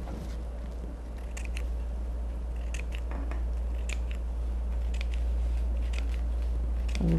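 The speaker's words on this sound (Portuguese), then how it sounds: "vou cortar só um pedaço." Scissors snip through a piece of paper napkin in several quick, close, crisp cuts over a low steady background hum, with no talking.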